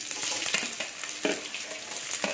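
Chopped onion, green chili, ginger and garlic frying in a pan for a goat blood fry: a continuous close sizzle broken by periodic scrapes and stirring knocks of a spoon against the pan, with no talking.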